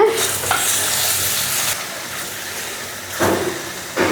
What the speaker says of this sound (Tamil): இந்த மசாலாலாம் பரட்டி விடுங்க.